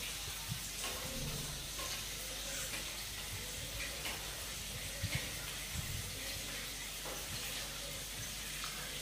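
Potatoes frying in oil in a wok, a steady soft sizzle with faint hiss and occasional light clicks, continuous and fairly quiet throughout.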